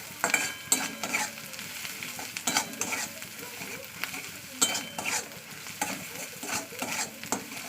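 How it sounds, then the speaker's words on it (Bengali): Taro (kochu) curry being stir-fried in oil in a pan, with a steady broadband sizzle broken by repeated scraping stirs at an irregular rhythm, close and moderately loud, with no talk. "পুরো এক মিনিট ধরে আমি এরকম কষাবো যতক্ষণ আমার মহাতে তেল ছেড়ে আসছে"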